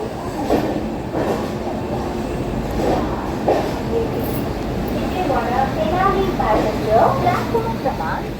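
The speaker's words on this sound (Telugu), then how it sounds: "అదే లింగంపల్లి నుంచి నర్సాపురం వెళ్ళే ట్రైన్" Lingampalli to Narsapur passenger train rolling past with a steady rumble and rhythmic wheel clatter, a faint squeal near the end, while people talk over it close by.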